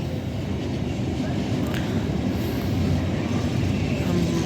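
A freight train at Peterborough rumbles steadily as it moves off, with broad continuous rail noise close by and a voice speaking briefly over it.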